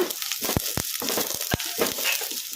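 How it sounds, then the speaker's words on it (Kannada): Onions, green chillies and curry leaves frying in a pan, a steady hiss of sizzling oil broken by a few sharp scraping knocks from a stirring spatula. "ಉಳ್ಳಾಗಡ್ಡಿ ಲೈಟ್ ಬ್ರೌನ್ ಕಲರ್ ಬರೋವರೆಗೂ ಫ್ರೈ ಮಾಡ್ಕೊಂಬಿಡೋಣ"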